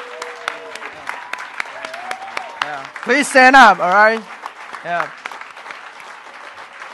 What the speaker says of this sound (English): just give it a applause.